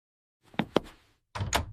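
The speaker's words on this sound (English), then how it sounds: "Open the door." A door is handled and opened with a pair of close wooden thunks and a knock-like bump, followed after a pause by a louder rattling, sliding sweep as it swings.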